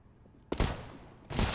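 A gunfire spray in Counter-Strike: Global Offensive, fired through smoke: two loud, dense bursts of rapid automatic shots, the first sustained and the second starting abruptly after a short dip.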